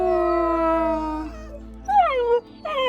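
Farm dog in Lapland giving a long, drawn-out howl, followed by two shorter wavering howls, close and clear with no other sounds.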